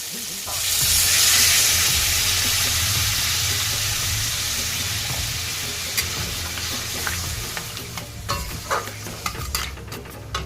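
Water poured into a pan of sizzling crab masala sets off a loud burst of hissing steam that slowly fades into steady frying, with scattered scraping and stirring clatter toward the end.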